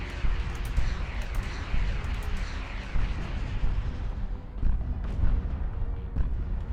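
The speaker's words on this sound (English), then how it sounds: "we will detonate this Sentinel first" In the space game Starcom Nexus, a Sentinel is detonated with a loud, rumbling explosive burst that rolls on for several seconds, followed by further booming blasts, with no voices.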